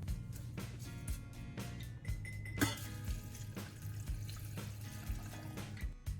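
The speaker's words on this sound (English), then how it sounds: "pour in some water and gently bring it to a boil on the stove" Water pours from a tap into a small pot holding a few dried bay leaves, a steady splashing trickle with uneven surges, moderately quiet and heard alone.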